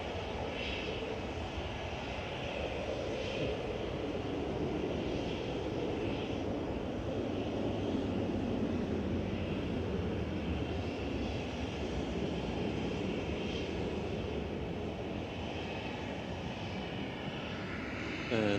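A Ryanair Boeing 737-800 arriving at Manchester Airport from Dublin gives a steady, loud, broadband jet roar that holds evenly throughout without voices.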